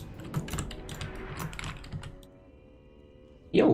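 Quick clattering keystrokes on a new, quieter computer keyboard at a gaming desk, bursts of clicks that taper into a pause before a louder thump at the end.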